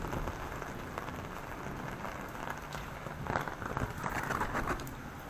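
Heavy rain pouring steadily outdoors on a muddy property, a dense, loud continuous hiss of drops striking surfaces, swelling slightly toward the end.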